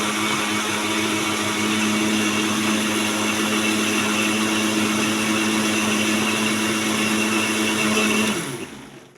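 An electric blender runs continuously while making fruit juice for Ramadan, a steady loud whirring hum that winds down abruptly at the end.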